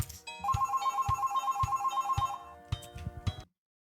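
An electronic phone ringtone in Regarding Sasha repeats in steady pulses of a bright beeping melody, close and loud, then cuts off abruptly, with no voices.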